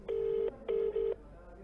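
A phone call rings out with a ringback tone: one long beep, a short pause, then two shorter beeps in quick succession, clear and fairly close, with no voices.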